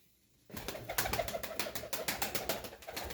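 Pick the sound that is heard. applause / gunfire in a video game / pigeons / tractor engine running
pigeons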